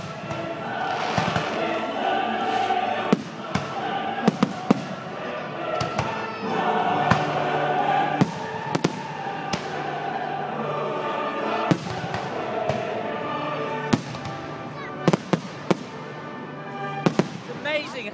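Fireworks boom at an outdoor flower show display in Shrewsbury, with repeated loud bangs and sharp cracks scattered irregularly through the clip, while people chat nearby throughout.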